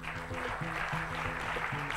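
A studio audience at a televised contest applauds the candidates with a steady wash of clapping, heard alongside music playing throughout the short stretch.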